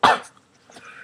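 A person coughing while recording, one sharp loud cough at the start followed by quieter breathy throat noise, close to the microphone.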